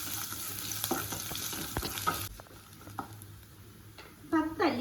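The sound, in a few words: sautéing crushed garlic, mustard, curry leaves in coconut oil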